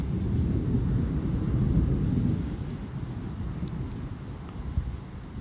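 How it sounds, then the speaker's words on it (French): Thunder rumbles in a strong September thunderstorm, a broad low roll that swells then slowly fades, with faint wind noise and distant background sounds. "C'est un fou cet orage."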